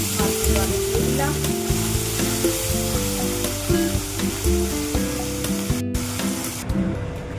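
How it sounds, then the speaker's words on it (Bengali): Small mourola fish frying in hot mustard oil, a loud, continuous crackling sizzle with bursts of spitting oil and occasional clinks of a utensil against the pan, no talking. "সর্ষের তেল গরম হতে থাক। তেল গরম হয়ে গেছে, মাছগুলো আমি দিয়ে দিলাম।"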